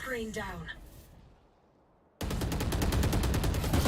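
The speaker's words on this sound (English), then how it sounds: "Free firing through the smoke." Rapid, dense gunfire bursts out suddenly and loudly, filling the second half of the moment after a quiet stretch, as a player fires blindly through a smoke cloud in a competitive esports shooter match.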